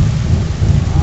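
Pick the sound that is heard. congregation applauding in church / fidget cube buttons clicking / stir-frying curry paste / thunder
thunder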